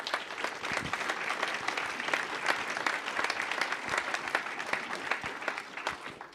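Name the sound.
audience applause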